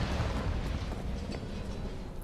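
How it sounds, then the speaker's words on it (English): Continuous deep rumbling booms from explosions in the video game Cyberpunk 2077, a dense, heavy low roar sustained without pause. "go to the gig, and then you hear explosions, and then you're like, wait a minute."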